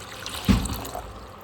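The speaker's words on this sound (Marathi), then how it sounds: "टोपामध्ये आपण पाणी गरम करायला टाकू" Water is poured into a cooking pot for heating. It comes as a brief splash and gush lasting about half a second, then a faint trickle fades into quiet.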